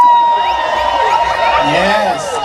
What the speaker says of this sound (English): Make we hear the Kingston people them